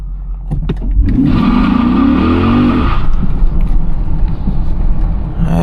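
A 425-horsepower SRT8 car accelerates hard from inside the cabin, its engine climbing to a loud, sustained rev before easing into a steady, rumbling cruise.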